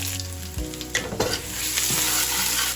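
Fenugreek seeds, black mustard seeds and grated ginger paste hitting hot oil already holding bay leaf and dried red chilli, a loud steady sizzle with a few sharp stirring scrapes near the start.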